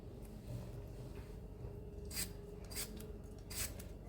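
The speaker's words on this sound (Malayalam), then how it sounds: "അതും കൂടെ നീളത്തിലരിയാം" A knife cutting tomato lengthwise on a board for sambar, a few soft, brief slicing rasps spaced apart over a quiet background.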